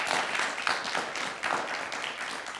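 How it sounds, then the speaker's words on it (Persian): A game-show studio audience applauds, a dense, even wash of many hands clapping throughout, fairly loud and without talk. "تشویق کنین دوستا حمید"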